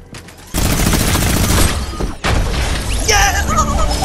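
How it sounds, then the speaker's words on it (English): Minigun fire in a video game erupts in long, loud, dense sustained bursts with a brief gap between them, while excited voices shout over the shooting. "One's got a minigun, be careful."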